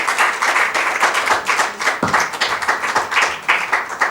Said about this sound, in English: Also a round of applause for Dhanya for having such an amazing conversation.